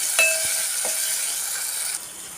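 Tomatoes cook on a low flame in a pan for a cucumber and dry fish curry, a steady close sizzle with a couple of utensil clicks, easing slightly near the end.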